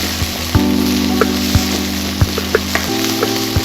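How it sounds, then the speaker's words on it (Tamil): Ingredients for a Chettinad fish kulambu fry in a pan with a steady close sizzle, broken by a few soft knocks and stirring clicks. "ஃப்ரை ஆகிட்டு இருக்கு."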